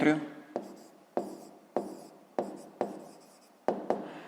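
Pen strokes scratch on paper during a fifth-grade maths exercise, coming in short repeated bursts roughly every half second to second, each a sharp scrape that fades, close up with no talking.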